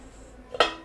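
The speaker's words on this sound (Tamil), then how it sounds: "மூடி வச்சிடலாம்." A single short metallic clank of a lid set onto a pot of simmering bottle gourd and cowpea gravy, sharp and close, in an otherwise quiet kitchen.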